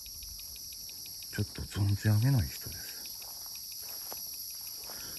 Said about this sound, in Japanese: いや、夜でも蝉鳴いてるよ。